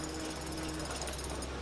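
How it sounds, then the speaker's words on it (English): Pneumatic drilling from a jackhammer outside makes a dense, continuous rattling roar throughout, steady and fairly loud, heard from indoors. "it could do without all that pneumatic drilling going on outside"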